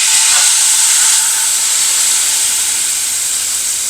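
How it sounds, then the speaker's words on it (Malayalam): Second coconut milk goes into a vegetarian curry simmering on low heat, giving a loud, steady, close hiss that fades slightly over a few seconds, with no talking. "ഇതിലേക്ക് ഇനി നമ്മൾ എടുത്തു വെച്ചിരിക്കുന്ന 2ാം പാൽ ഒഴിക്കാം."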